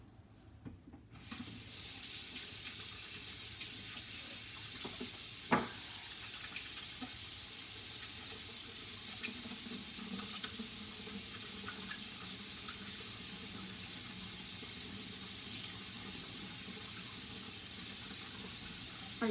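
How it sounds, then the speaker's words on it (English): Tap water runs steadily into a sink as hands are washed, a constant near hiss starting after a brief quiet moment and continuing alone, broken only by faint splashes and small knocks. "I gotta wash my hands."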